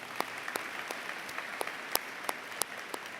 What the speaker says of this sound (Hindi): मेरे बंधुओं, इन सभी बच्चों को एक बार जोरदार तालियों द्वारा हम साधुवाद दें।